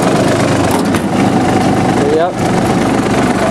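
The Yanmar diesel engine of a John Deere F1145 mower runs at a steady idle close by, a dense, even, throbbing hum. Someone briefly speaks over it.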